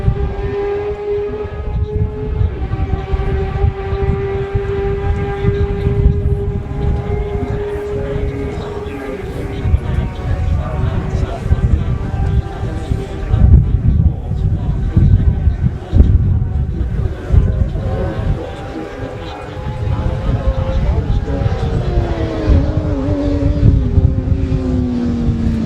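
A Yamaha racing motorcycle ridden by Stephen McKnight in the Junior race sweeps past with a loud, sustained engine whine that changes pitch. Other race machines are heard through a steady, dense engine roar, with commentary voices beneath.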